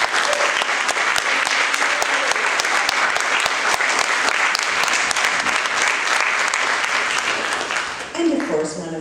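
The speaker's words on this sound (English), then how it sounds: "So let's give my friend Bethany a round of applause." At a political forum a crowd breaks into loud, sustained applause with dense clapping and a few sharp individual claps, fading slightly near the end as a voice begins speaking.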